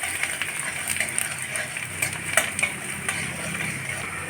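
Chopped garlic and ginger sizzle steadily in hot oil in a pan, with scattered clinks and scrapes of stirring cutting through a continuous, fairly quiet frying hiss.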